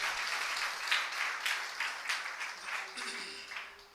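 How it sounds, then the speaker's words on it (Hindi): A church congregation at a Sunday service in Dungarpur claps for God in a steady burst of loud, sustained applause with rhythmic swells throughout. "एक बार जोर से ताली बजा सकते हैं परमेश्वर के लिए।"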